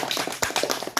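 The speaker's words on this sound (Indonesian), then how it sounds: "tepuk tangan dulu ya." A small group of children clapping hands in applause during a school group counseling session, a short burst of uneven claps close by.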